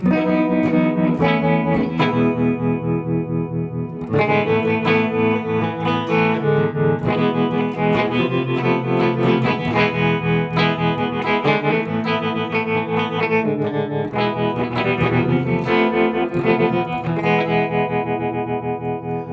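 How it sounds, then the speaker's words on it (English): Distorted electric guitar chords through a ring modulator pulse with a wavering tremolo, an LFO varying its speed, the volume throbbing rhythmically throughout a sustained, effects-heavy passage. "you hear the LFO modulating the speed of the tremolo there"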